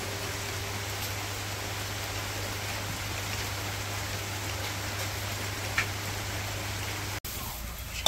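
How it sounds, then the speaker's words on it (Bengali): Rain falls steadily around a village home kitchen, a constant close hiss over a low electrical hum, with a sudden brief break just before the end. "বৃষ্টি যাওয়া শুরু হইলো"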